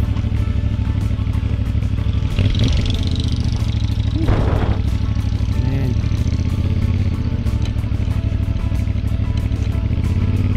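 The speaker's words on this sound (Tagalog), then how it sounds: "medyo malaking makina ng motor" A fairly large motorcycle engine idles and runs steadily on a road leading to a cave and nature park in the Cordillera mountains, a low continuous drone with a slight rev in the middle and a brief spoken word over it.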